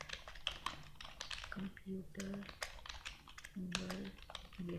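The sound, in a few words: typing on a computer keyboard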